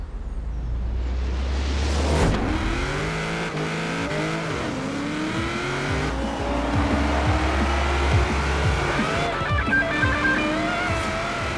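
A Camaro's engine in the racing video game Forza Horizon 4 revs and shifts gears repeatedly, pitch climbing and dropping, with occasional tire squeals, loud and continuous throughout.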